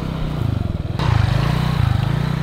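A motorbike labours along a sandy jungle path on Koh Rong island, Cambodia, its engine chugging in a loud, close, pulsing drone that swells slightly as the rider pushes on.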